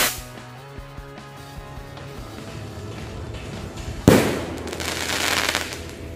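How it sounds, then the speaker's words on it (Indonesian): Launching firecrackers set off during Lebaran celebrations: a sudden loud whoosh and crackling burst, then sustained hissing and crackle outdoors, following a quieter stretch of background noise. "mantap sekali ya mercon luncurnya"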